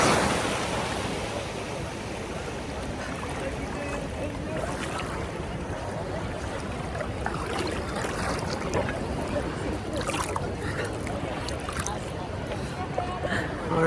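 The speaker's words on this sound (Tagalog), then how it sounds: "Lakas ng alon, eh" Strong ocean surf rushes continuously onto a beach in Alicante, Spain, a dense, loud roar of breaking water and wind buffeting close by, with speech faintly present at times.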